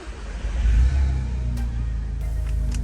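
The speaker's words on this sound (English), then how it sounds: "it gives your exhaust a different sound" A 2016 Volkswagen Golf R engine fires up and settles into a deep, rumbling exhaust burble with a brief rev, heard from a short distance.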